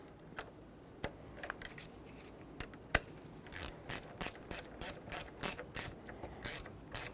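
Ratchet snugging the negative battery terminal onto the post of a 2000-2005 Ford Excursion, a few scattered clicks at first, then a quick run of evenly spaced, crisp pawl clicks close by, quiet overall.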